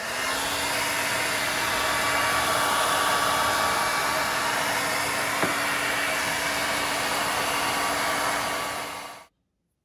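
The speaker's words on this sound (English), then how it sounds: "I'm going to use a hairdryer to speed up the drying process" A hair dryer blows steadily and loudly on thick combed paint on a wigeon drake decoy, a constant whooshing roar that runs for about nine seconds before switching off abruptly.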